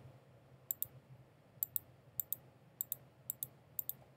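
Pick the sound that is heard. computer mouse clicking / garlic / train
computer mouse clicking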